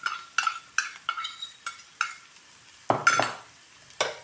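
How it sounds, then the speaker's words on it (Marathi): Onion being roasted and stirred in a pan for a crushed onion chutney, with a series of scraping stir strokes and light sizzling, close and fairly loud, no talking. "असं कांदा भाजून घ्यायचा।"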